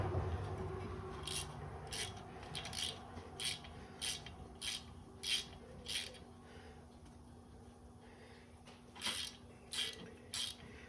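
A socket ratchet with a 10 mm socket loosens bracket bolts on a 2013 Chevrolet Suburban during ball joint work, quiet close clicking bursts repeating in a steady rhythm, a pause, then another run of clicks.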